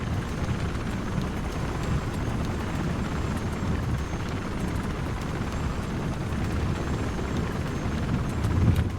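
Helicopter in the video game Mirror's Edge Catalyst, a continuous loud rumbling rotor and engine roar with dense low wash, steady throughout and no speech.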